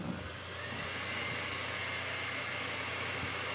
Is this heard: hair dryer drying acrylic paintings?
yes